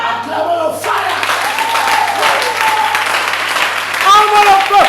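A congregation at a charismatic religious gathering claps and cheers loudly and continuously, a dense wash of applause that swells near the end, with voices shouting over it.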